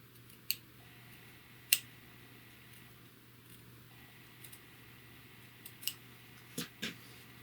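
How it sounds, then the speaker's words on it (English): Quiet, sparse snips of scissors trimming a fabric seam allowance, a few crisp clicks spaced irregularly over a low steady hum, with no talking. "to support my scissors, so I'm not cutting in the air"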